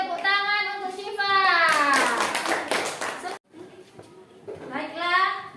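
Pupils in a primary classroom clap together for a classmate during a lesson on the human digestive system, a brief round of close applause between stretches of children's voices and a teacher talking.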